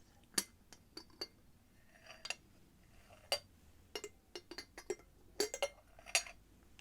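A glass teapot and its glass lid clink in a quiet room, a scattered series of bright, close, delicate taps and chinks with irregular gaps, soft and intimate.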